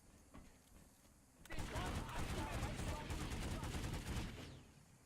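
Gunfire in the video game Planetside 2 during an infantry league match: a dense, rapid automatic burst erupts after a quieter start and rattles on for several seconds before tapering off, with a commentator talking over it.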